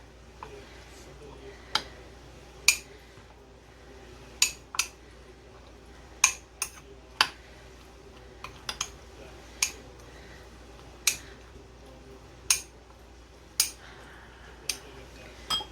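A spoon scrapes and clinks against a cup as red beans are stirred into rice, sharp irregular taps spread across the stretch, fairly close, with no talking over them.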